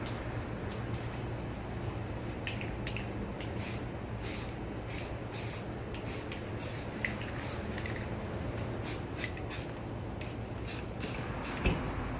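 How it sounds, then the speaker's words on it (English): Short bursts from a spray can of Rust-Oleum primer hiss in a steady run of separate puffs, building up panel line areas on a Top Flite Cessna 182 model airplane build, heard fairly close with no talking. "I'm just using regular Rust-Oleum primer just to build up the panel line areas"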